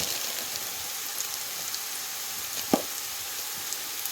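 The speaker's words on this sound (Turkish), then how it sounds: "biberler kızarmaya başladıktan sonra şöyle hemen" Peppers sizzle and fry in a pan, a steady fine crackling hiss with no voices, broken by one sharp louder pop near the end.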